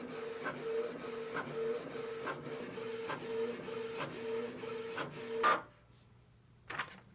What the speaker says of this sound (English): it already starts printing.